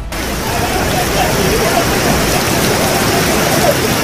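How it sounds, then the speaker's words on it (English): Torrential rain during a severe storm in Oman pours in a loud, dense, continuous hiss, with no clear drops or thunder standing out. "a severe storm accompanied by torrential rain struck Oman"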